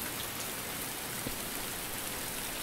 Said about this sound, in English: the rain's stopping